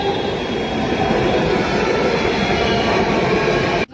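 A Delhi metro train arrives with a loud, continuous rail rumble and faint wheel clatter. The sound is close and steady, then cuts off abruptly near the end.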